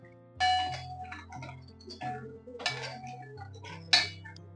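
A spoon stirs sugar syrup in a pot, giving scattered metallic clinks and taps against the pot over a quiet background, close and soft.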